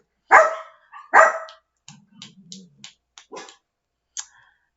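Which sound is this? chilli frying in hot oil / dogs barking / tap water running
dogs barking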